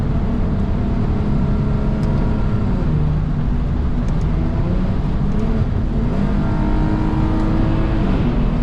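Lexus IS250 engine droning loudly and steadily from inside the cabin while driving, with low rumbling harmonics that shift in pitch as the car downshifts through gears.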